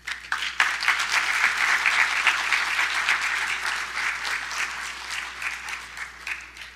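A church congregation claps during a New Year's Eve worship service, a sustained, fairly loud round of many hands that carries on evenly and tapers slightly near the end.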